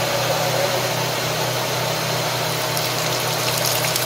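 A Mazda MPV engine idles steadily during an automatic transmission fluid exchange, giving a loud, even low hum with a constant drone. It runs alone with no voices.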